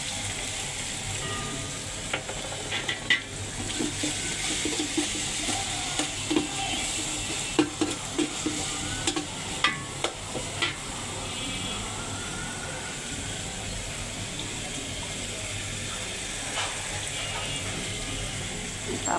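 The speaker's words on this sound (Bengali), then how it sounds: "তারপরে দিব আমি পেঁয়াজ বাটা" Onion paste goes into a pan for bhuna khichuri and is stirred, giving a continuous sizzle with scattered scraping clicks of the spoon against the pan, moderately close, with no talking.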